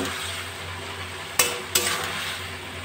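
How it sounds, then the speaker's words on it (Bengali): Snake gourd curry is stirred in a pan over a gas flame, giving a faint, steady sizzle with two sharp scrapes of the utensil close together; no one speaks. "মাঝে মাঝে একটু এইভাবে নাড়াচাড়া দিয়ে দেব"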